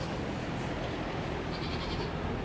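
Goats on a farm bleating continuously, several overlapping calls close by and fairly loud, with no talk.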